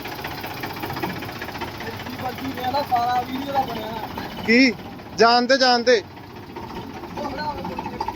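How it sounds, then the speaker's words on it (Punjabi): Tractor pulling a trolley runs with a steady, knocking engine throb throughout, while people shout and talk over it in short loud bursts. "ਸਬੂਤਾ ਟਰੈਕਟਰ ਟਰਾਲਾ ਜੀ ਹੁਣ ਇਹਦੀ ਚਲਾਉਣੀ ਵੇਖੋ"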